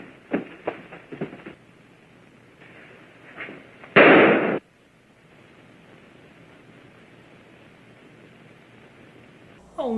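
A single sharp, loud gunshot in a film scene cuts through a quiet, hissing background, preceded by a few softer pops and thumps.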